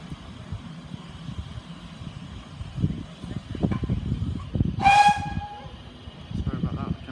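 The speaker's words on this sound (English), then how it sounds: "The engine is just backing out now, ready to run around the train." Steam locomotive on a heritage railway at Cheltenham Racecourse backing out to run around its train, with a steady low chuff and rumble, then a loud, bright steam whistle blast near the middle before the rumble resumes.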